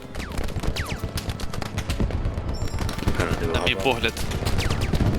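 Rapid bursts of automatic gunfire crackle continuously in a Squad battle on the Al-Basrah map, with sharp overlapping shots near and far, while someone speaks briefly over the shooting.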